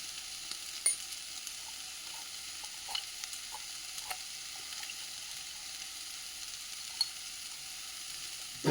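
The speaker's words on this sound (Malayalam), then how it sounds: "ഇനി നമുക്ക് ഈ കൽച്ചട്ടിയിൽ തന്നെ വെള്ളരിക്ക ഇട്ട്, വെള്ളരിക്കാകുമ്പോൾ 2 മിനിറ്റ് കൊണ്ടങ്ങ് വേവുമല്ലോ" Cucumber cooking with salt and turmeric in a stone pot, giving a faint, steady low sizzle and bubbling with a few soft clicks and taps scattered through, heard alone with no voices.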